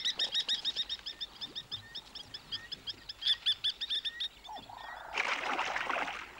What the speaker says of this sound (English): The blacksmith plovers give it a routine low-level attack.